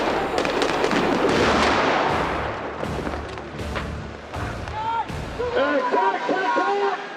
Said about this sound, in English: We had the Moose firing some missiles, and we had to time it with missiles incoming strikes and missiles leaving the building and attacking old Hippo.